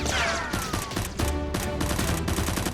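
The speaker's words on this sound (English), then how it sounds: "The two thieves teamed up to shoot at Swat" Toy Nerf guns fired in a staged mock battle between SWAT and thieves, a rapid burst of sharp, loud popping shots in quick succession, mixed with whooshing effects and no talking.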